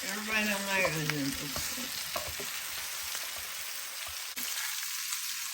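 Golden Yukon Gold potatoes frying with onions in a pan give a steady close sizzle with stirring scrapes, preceded by a brief voiced tone at the start.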